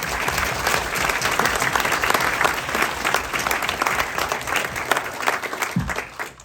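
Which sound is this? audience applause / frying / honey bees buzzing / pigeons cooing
audience applause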